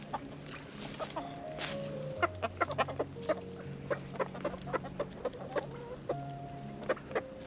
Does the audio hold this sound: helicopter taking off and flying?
no